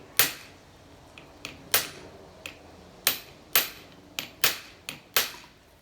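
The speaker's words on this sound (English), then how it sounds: "I'm hammering down the piston so the cylinder actually walks" A motorcycle piston on a 1984 Honda C70 cub is hammered down through a wood block, about a dozen sharp, ringing knocks in uneven sequence, close and clear with no talking.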